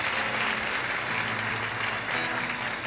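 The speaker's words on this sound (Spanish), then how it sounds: "Yo quiero que usted le rinda un fuerte aplauso a Jesucristo, el Rey de Reyes y Señor de Señores" Church congregation at a baptism service applauding in a steady, dense wash of clapping that fills the room from start to finish, with no voices standing out.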